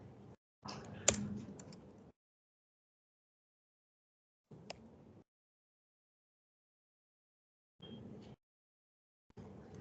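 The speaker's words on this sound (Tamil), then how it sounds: "அதே மாதிரி இங்க டைப் பண்றேன்" Computer keyboard typing in short bursts of clicks at a desk, separated by pauses, fairly close and moderately quiet, with no talk over it.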